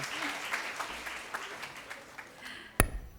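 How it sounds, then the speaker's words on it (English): Applause from an audience at an education and entrepreneurship program, a soft, diffuse patter of many hands at moderate distance, ending with a sharp close knock. "I think the claps can literally go a little louder"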